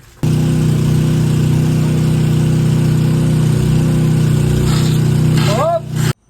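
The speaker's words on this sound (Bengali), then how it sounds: "মোটর চালু হবে" A motor switches on abruptly and runs with a loud, steady droning hum for about six seconds, then cuts off. Brief voices come in near the end.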